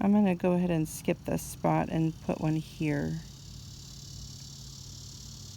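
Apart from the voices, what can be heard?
cicadas buzzing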